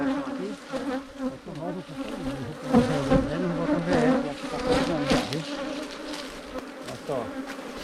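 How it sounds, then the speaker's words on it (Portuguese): A dense swarm of honeybees buzzes around an open beehive, a loud continuous drone with shifting pitches and close passes of individual bees, rising and falling in intensity. "É abelha demais, pessoal."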